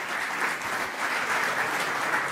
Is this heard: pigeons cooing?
no